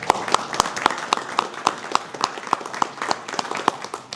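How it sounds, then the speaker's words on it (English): Clapping at an amateur radio club meeting, a modest group of hands striking in a sharp, fairly regular rhythm, each clap distinct and close, lasting throughout. "Yay, let's clap for them."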